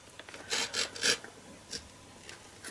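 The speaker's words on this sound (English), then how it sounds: "align your cutting blade at the 4 3/4 inches here, and cut up to the 3/4 inch here" A paper-trimmer cutting blade slices through cardstock in a few short, close scraping strokes, three bunched together and then a softer pair after a pause, over quiet background.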